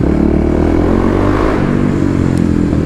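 A Kawasaki KLX351 motorcycle on a night ride through a tunnel, its engine droning loud and steady with a reverberant hum throughout.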